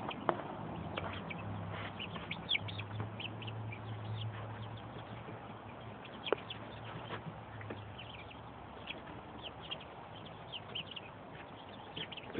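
Chicks under a heat lamp at night give soft peeps and chirps from close by, sparse and irregular over a steady low hum.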